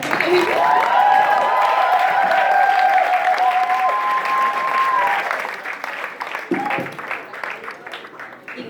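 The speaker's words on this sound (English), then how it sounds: "Can we get a huge round of applause?" An audience gives a loud round of applause at a Q&A with Lemn Sissay, dense clapping with whoops and cheering voices on top, tapering off toward the end.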